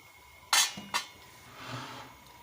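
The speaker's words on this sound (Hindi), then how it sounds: "अच्छे से मिक्स कर लेंगे" Chicken tikka biryani is mixed in a pot, with two sharp metallic clinks of a utensil against the pot followed by a soft scraping stir.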